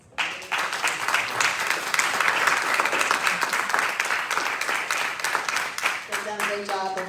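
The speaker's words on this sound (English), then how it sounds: "Give them a round of applause" An audience gives a round of applause for a group of speakers at an evening event. Loud, dense clapping swells in quickly and holds steady for several seconds, then thins toward the end.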